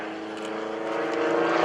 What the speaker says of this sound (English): There he goes, tumbling the aircraft nose over tail.